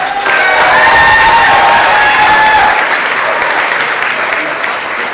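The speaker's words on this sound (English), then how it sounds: "A round of applause for the beautiful couple" A crowd applauds and cheers for a couple, loud and close, with sustained clapping, whoops and a high whistle early on, then easing slightly as it continues.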